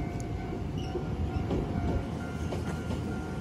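An Iyotetsu Yokogawara Line train heading toward Matsuyama-shi and Takahama pulls out of a station with an island platform, a steady mid-distance rolling rumble with faint wheel clatter and a steady tonal hum, no speech.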